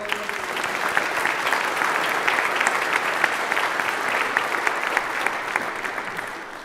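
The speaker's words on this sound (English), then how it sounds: "Give them a wonderful round of applause." A church congregation applauds a First Communion child, a long, steady round of clapping that fills the space evenly and tapers off slightly at the end.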